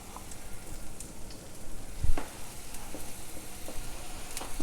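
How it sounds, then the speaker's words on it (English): Potatoes sizzle in a hot pan for crusty butter-and-stock fondant potatoes, a soft crackling fry with scattered pops and one sharp knock, fairly quiet and close, with no voices. "go ahead and put the potatoes in"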